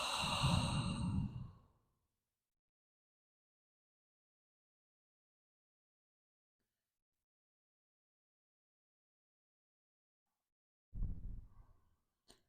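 Slow, deliberate breaths during a restorative yoga session in child's pose: one long, soft exhale at the start, a stretch of near silence, then another audible breath near the end.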